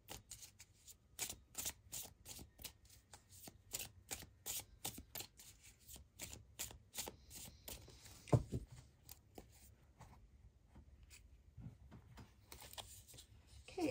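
Light Seers Mini Tarot cards are shuffled in a quick run of crisp riffling flicks, then slower scattered card sounds. The shuffling is close and fairly quiet, with no talking.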